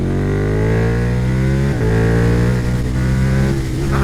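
Motorcycle engine revved hard at wide-open throttle, a loud, sustained, rising roar with strong harmonics and a brief dip near the middle before climbing again, close and alone with no talk.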